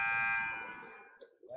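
A basketball game buzzer at a boys high school game sounds one long, loud, steady electronic tone that fades out over about a second, followed by faint crowd noise.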